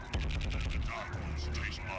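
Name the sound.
assault cannon and bolter fire in Chaos Gate video game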